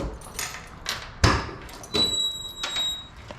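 Keys jangle and click against the trunk lock of a 1972 Oldsmobile Cutlass 442 convertible, a few sharp metallic rattles and taps up close with brief pauses between attempts.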